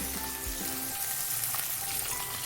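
Garlic, green chilies and ginger fry in a pan for a chicken curry, a steady close sizzle with a few low stirring knocks near the start and no talk.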